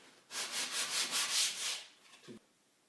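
Rhythmic hand sanding on a carved wooden wind turbine blade, about six quick back-and-forth rasping strokes close by, then a short scrape and silence.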